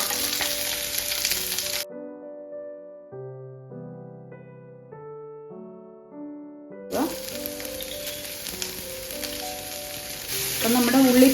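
Shallots fry in a pan with a little salt for pepper chicken, giving a continuous close sizzle that drops out briefly behind a few seconds of plain tonal music before the frying returns, louder toward the end.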